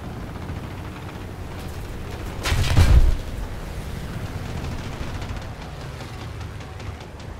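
Gunfire from an M16 MGMC in a combat video game, with one loud deep booming burst near the middle over a steady low rumble of distant battle noise.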